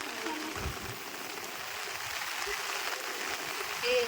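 Soft rain falls in a steady, faint hiss of drops, with a few brief nearby sounds breaking through.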